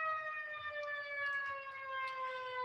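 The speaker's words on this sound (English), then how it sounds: "Sorry for the siren going on behind me." A wailing siren sounds outdoors, a steady layered tone that drifts slowly down in pitch across the clip, moderately loud, with no talk over it.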